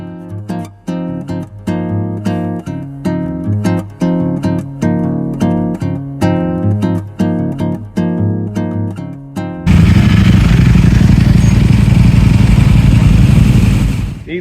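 A motorcycle ridden on the road in Corsica, a steady loud engine and wind roar entering in the last few seconds after a stretch of rhythmic music.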